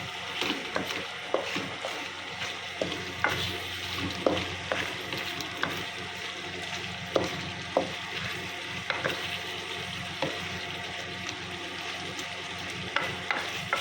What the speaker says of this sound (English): Okay, I'm gonna stir it again. Keep stirring it.